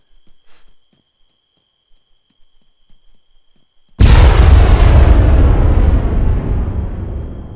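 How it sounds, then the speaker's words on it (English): A small IED explosion at night in the video game Arma 3: faint scattered ticks, then one sudden loud blast whose rumbling roar slowly dies away over several seconds. "So here's some nighttime explosions."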